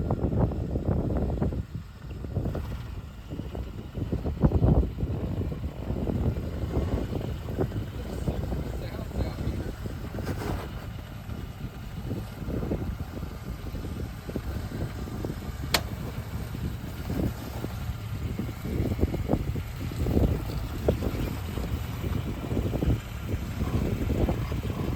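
A Jeep YJ on 35-inch tires drives an off-road shakedown run at Moon Rocks, its engine a continuous low rumble mixed with gusty wind buffeting the microphone throughout.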